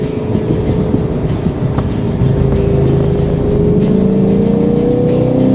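A 2025 Lexus IS500 F Sport V8 sedan is driven through corners, its engine a loud, continuous drone that rises in pitch as it accelerates out of a bend, heard from the cabin without talk.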